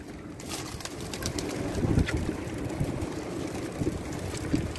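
Pigeons coo softly in a loft setting, low murmuring calls repeating over a faint, steady background, with no voices.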